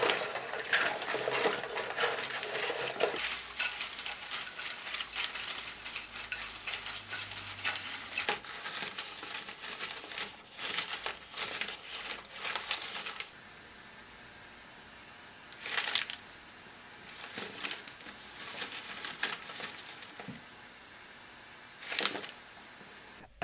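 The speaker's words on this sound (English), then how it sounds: "Now I'm collecting some leaves for a leaf rustling effect." Dry leaves are gathered and crunched by hand for a rustling effect, with dense, crackly bursts of rustling in close bursts, followed by quieter gaps broken by a few short crunches.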